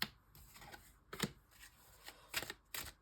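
Tarot cards are shuffled by hand in several short, papery riffling bursts with brief pauses between them, heard close and fairly quiet, with no talk.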